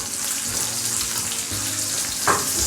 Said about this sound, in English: you just dry up the liver like this